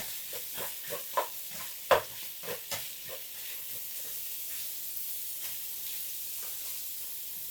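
Chicken pieces sizzle in a hot pan while a spoon stirs them, with several sharp scraping clatters over a steady frying hiss.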